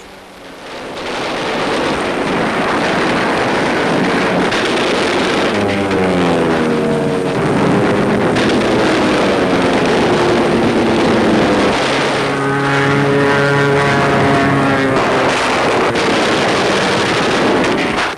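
Kamikaze aircraft in 1945 US Navy newsreel footage: a loud, sustained propeller engine drone rising and falling as planes pass, with a rough, heavy roar throughout.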